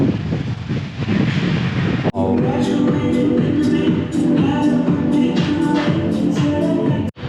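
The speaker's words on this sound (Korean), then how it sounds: "이제 비가 오다 그치니까 바람이 많이 불어가지고요. 이 바람 소리 때문에 녹화가 안 될 것 같아요." Strong gusts buffet a microphone outdoors just after rain stops, a loud, close rushing roar for about two seconds. It cuts off abruptly into different tonal sounds with sharp ticking hits, and no one speaks.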